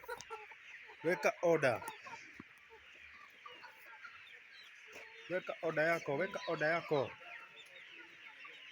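Brown commercial layer hens cluck in two loud bursts of rapid, overlapping calls, with quieter gaps between them, while someone talks over the flock.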